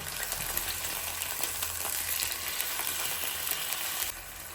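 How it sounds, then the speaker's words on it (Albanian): Chicken breast fillet fries in a pan with a dense, steady sizzle and crackle close by. It eases slightly just before the end, and nobody speaks. "Kam skuqur nga njëra anë, tash kthej nga ana tjetër dhe nga ana tjetër do e skuqim"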